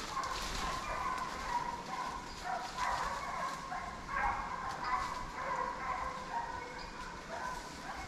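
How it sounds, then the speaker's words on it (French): Hunting dogs barking and yelping at a distance during a boar hunt, intermittent and overlapping, faint against an outdoor background hiss. "les chiens mènent depuis bien 15 minutes et je sens que ça se rapproche de moi"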